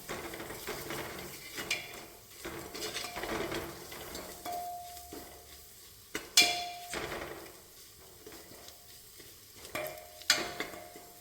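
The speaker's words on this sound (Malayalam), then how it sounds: "ഇനി മല്ലിപ്പൊടി കൂടെ ചേർക്കാം. എല്ലാം കൂടെ നന്നായിട്ടൊന്ന് വഴറ്റിയെടുക്കാം." Vegetables for a vegetable biryani sautéed with coriander powder in a pan, a spoon stirring and scraping in repeated strokes with a soft sizzle underneath and occasional sharp clinks against the metal.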